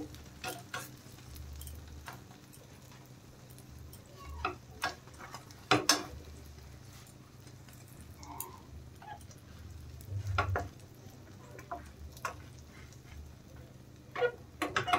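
Bread pieces fry in a pan over a medium gas flame, giving a quiet, soft sizzle with scattered light ticks and clicks and no talk.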